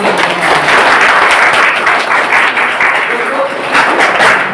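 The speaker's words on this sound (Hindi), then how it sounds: "एक बार आप अपने लिए एक बार जोरदार ताली बजाएं।" A large group of trainees at a training session claps loudly and continuously, a dense sustained roar of hands with no pauses.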